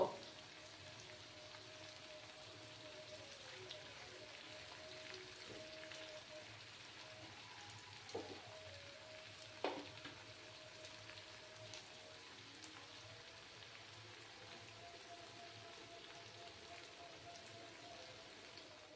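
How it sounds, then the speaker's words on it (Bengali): Dry shrimp frying on low heat: a faint, steady, even sizzle that runs throughout with a couple of small pops, quiet and without talking. "ওটাকে লো আঁচে ফ্রাই করে নেব"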